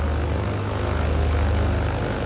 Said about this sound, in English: Oh, that is such a beautiful sound. Listen to that engine.